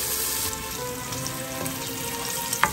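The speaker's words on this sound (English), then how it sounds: "Place the pancetta in a cold pan. Add 1 crushed garlic clove and cook on medium heat until crispy and golden." Pancetta and a crushed garlic clove fry in a pan over medium heat, giving a continuous close sizzle with light crackle and a brief clink near the end, no talking.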